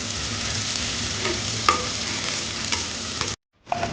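Onions for a mushroom biryani fry in a pan, a continuous close sizzle with occasional stirring scrapes, briefly cutting to silence near the end before the sizzle returns.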